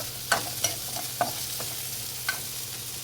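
Small onions frying and being stirred in a pan for mutton varuval, a steady soft sizzle with four or five short scraping strokes of the spoon, close and moderately quiet, with no talk.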